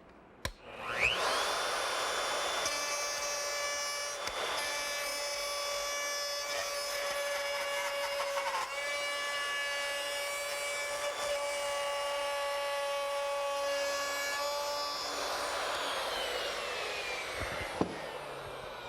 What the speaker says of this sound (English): Using the same router setup that I had earlier, with the router bit with the ball bearing at the bottom that rides on the plywood template,